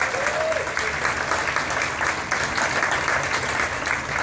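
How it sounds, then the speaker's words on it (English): An outdoor crowd at the Bennington Battle Day Parade in Vermont claps steadily for several seconds after a speech from the governor, a dense, even patter of many hands heard alone. "How about a round of applause for Rick?"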